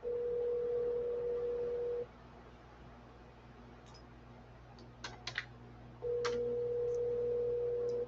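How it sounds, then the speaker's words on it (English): A phone ringback tone sounds as a steady beep that stops, then starts again after a pause, over a low hum. A few clicks of handling come in the gap. "She's gonna answer her phone."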